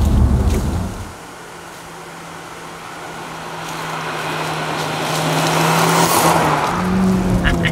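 A Honda Civic Type R hot hatch with 316 brake horsepower, front-wheel drive, driven hard: loud engine roar building steadily under acceleration, with a brief lift near the start and rising intensity toward the end.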